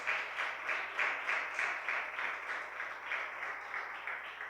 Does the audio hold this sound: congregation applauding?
yes